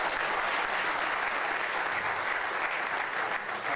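Sustained audience applause at a seminar, a dense, even wash of many hands clapping from a crowd, continuing without pause and heard from a moderate distance.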